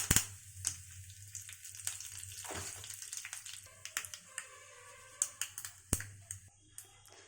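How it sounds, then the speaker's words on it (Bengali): Mustard seeds and curry leaves tempered in hot oil for a peanut chutney give a quiet sizzle with scattered sharp pops and crackles at close range. "সরষা ফোড়ন দিলাম, কারি পাতা দিলাম,"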